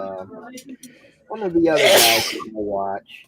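A single sneeze bursts out mid-clip amid casual chatter, loud and close with a sharp noisy blast, while people talk before and after it.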